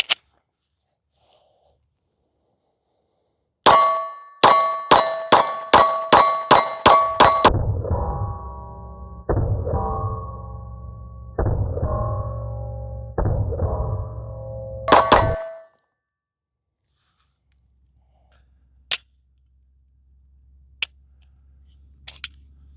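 A Walther PDP Pro-X pistol fires a fast string of loud, sharp shots with ringing metallic clangs, followed by a second burst of rapid reports and a few isolated cracks, then quiet.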